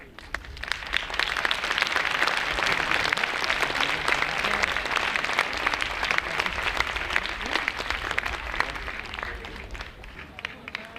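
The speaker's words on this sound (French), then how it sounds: "On peut les applaudir." A crowd at a local pageant electing a town's young maid of honour applauds steadily, dense clapping held for about ten seconds with voices mixed underneath before fading out.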